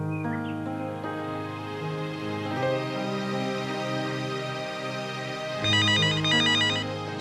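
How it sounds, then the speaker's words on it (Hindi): A melodic electronic phone ringtone plays loudly and continuously, with a brighter, chirpier trilling pattern joining near the end. "अरे भाई ये फोन क्यों नहीं उठा रहा?"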